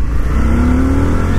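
Loud, close motorcycle engine of a 2024 Indian FTR 1200 roaring steadily under heavy throttle, its pitch rising slightly as it accelerates.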